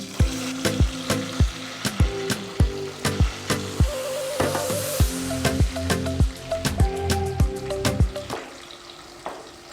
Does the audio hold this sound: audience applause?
no